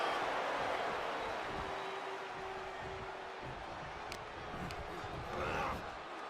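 A video game crowd in WWE 2K24 roars in a steady wash of cheering throughout, swelling slightly near the end, with faint thuds of in-ring action and a voice underneath.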